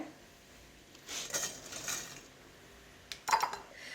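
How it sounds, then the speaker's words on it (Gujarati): Drained chickpeas are tipped into a mixer jar, giving a few quiet rattling, clinking bursts against a hushed background. "હવે મિક્સર જાર લઈ લઈશું અને તેમાં આ ચણાને ટ્રાન્સફર કરી દઈએ"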